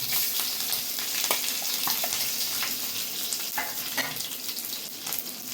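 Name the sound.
dried chilli and curry leaves crackling while frying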